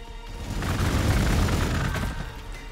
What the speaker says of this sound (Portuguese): Tiro.